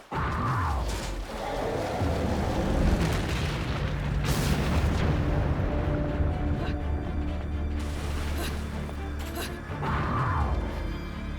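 Gunfire and heavy booms from combat in the action game Bayonetta 2, dense and loud over eleven seconds, with repeated sharp blasts and impacts layered over a constant rumble of battle effects.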